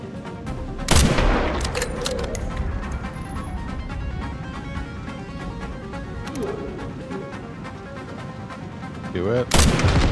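Gunfire in the survival horror video game Resident Evil 9: Requiem, with a loud shot near the start, a few more scattered bangs, and a final burst at the end over a steady game ambience.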